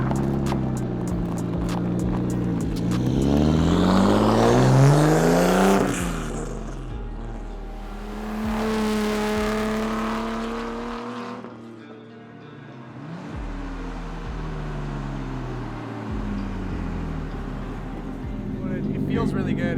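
A JDM Nissan Laurel engine drives past and revs, swelling and fading as it accelerates and shifts, loud and close at times, with a brief quiet gap midway.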